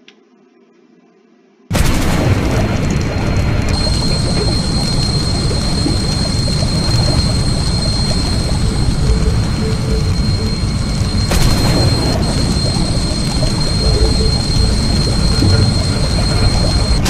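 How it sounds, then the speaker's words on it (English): A plane explodes in the survival video game Stranded Deep: after a brief quiet start, a sudden loud blast gives way to sustained roaring, crackling rumble with a tonal whine, continuous to the end. "Oh gosh, that plane exploded fast."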